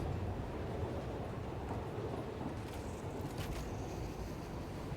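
Trains rolling along rails in the factory-building game Satisfactory, a steady low rumble filling the whole stretch at moderate level with faint higher clatter near the end, no talking.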